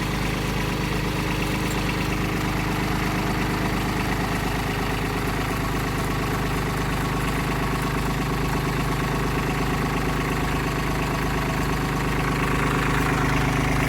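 A Kubota tractor drives a 9000 lb winch dragging a stubborn stump, giving a loud, steady engine drone with constant low rumble and vibration throughout, no voices.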